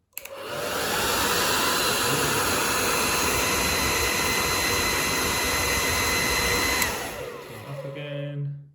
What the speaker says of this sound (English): we'll turn on the hairdryer